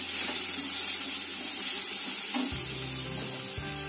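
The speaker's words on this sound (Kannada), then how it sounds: "ಕ್ಯಾಬೇಜ್ ಮತ್ತೆ ಕ್ಯಾರೆಟ್ನ ಫ್ರೈ ಮಾಡ್ಕೊಳ್ಳೋಣ." Shredded cabbage and carrot frying in a pan for a momo filling, giving a loud, steady sizzling hiss throughout.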